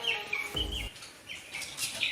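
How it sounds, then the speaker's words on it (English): Three-week-old poultry chicks chirp in a brooding room, a few soft high peeps over a low ambient hum, with a brief louder thump midway. "The birds will be 3 weeks old by tomorrow."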